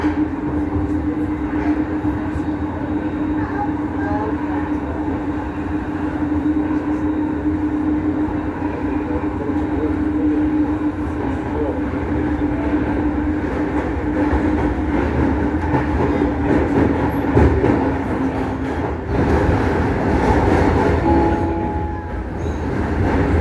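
A Prague metro line A train running on rails through an old service connecting track near Strašnická station, a steady loud rumble with rail noise and occasional clacks, heard from inside the car.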